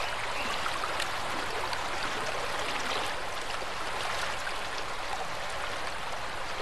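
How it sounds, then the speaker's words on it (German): Steady broadband rush of river water flowing in the game ARK Survival Evolved, a continuous even wash heard alone at moderate level without pauses. "Ich hoffe, das ist der Fluss."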